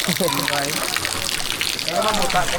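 Water gushes and trickles steadily at a hot spring pool at Mambucal, a continuous close splashing flow, while people speak over it throughout.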